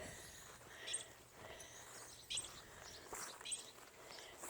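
Squirrels give faint, sharp chirps in a few scattered bursts against a quiet outdoor hush, distant and barely above the background.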